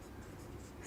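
A pen scratches across paper during a physics lesson, giving a faint, continuous soft scribbling with slight strokes, quiet and close with no talking.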